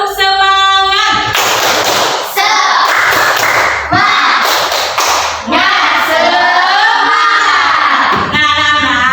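Schoolchildren in a classroom performing a spirit clap chant, bursts of rhythmic clapping alternating with loud shouted chanting in several short rounds.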